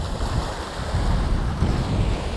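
Sea waves wash onto the beach at East Coast Park in Singapore, a continuous surf roar mixed with wind buffeting the microphone, with no talking.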